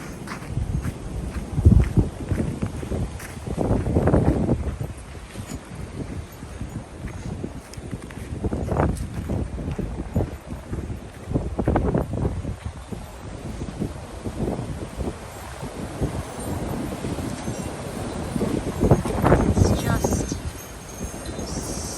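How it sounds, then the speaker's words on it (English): Strong gusty wind from a blizzard in Alaska buffets the microphone in rumbling surges, with faint rustling and scuffing underneath. "Super windy."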